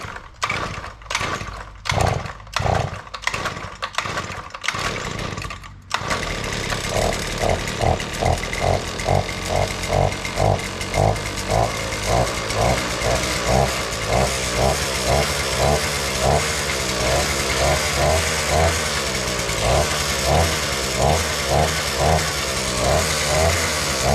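An Earthquake cultivator with a Viper engine, started without the choke, coughs through several pull-start attempts, then catches and settles into a steady, loud, rapidly pulsing idle close by.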